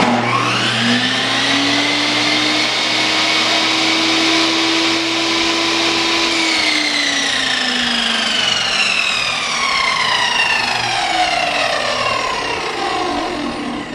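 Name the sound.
power saw running on workbench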